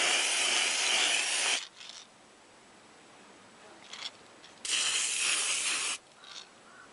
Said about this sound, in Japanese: そしたら窓を全開にしてマスクを着用してスプレーします。